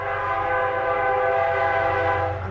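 A train rolls along tracks behind a house, a steady loud drone with sustained horn-like tones throughout, close and continuous.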